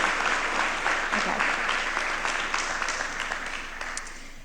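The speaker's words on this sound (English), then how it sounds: "Let's give a huge round of applause to our sponsors." Audience applause for sponsors at a generative AI summit in Oxford, steady dense clapping throughout that slowly fades toward the end, with no talking over it.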